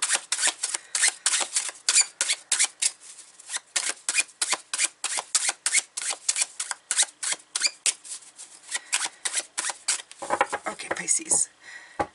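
Tarot cards are shuffled close up in a quick run of crisp riffling flicks and snaps, the rhythm rapid and even, ending in a brief looser flurry.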